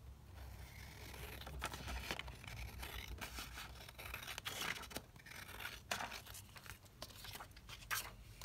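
Scissors snip through paper and ephemera for a craft project, with a run of close, irregular cutting and rustling sounds that continue throughout with no speech.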